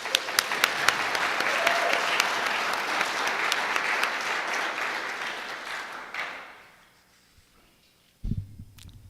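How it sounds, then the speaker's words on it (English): A security conference audience applauds a speaker taking the stage, sharp individual claps opening into a sustained crowd ovation that fades out after about six seconds, followed by a brief quiet and a close thump of handling. "let's give a round of applause for Mr."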